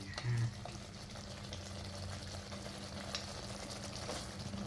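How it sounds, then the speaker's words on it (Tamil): A pot of chicken varuval bubbles and simmers steadily, with soft gurgling and light sizzling throughout and occasional faint clinks. "கொதிக்கிறது"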